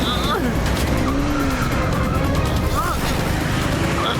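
Animated cartoon car chase: tyres squeal and skid in several whining sweeps over a loud, constant engine roar, ending in a vehicle crash, with voices in the mix.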